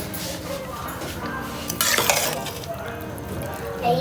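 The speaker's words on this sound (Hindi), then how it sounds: "यहाँ पर हमारे पकौड़े फ्राई हो रहे हैं।" Pakoras crackle and sizzle in hot oil in a home kitchen pan, with a utensil scraping and stirring through them and a brief louder clatter of metal against the pan midway.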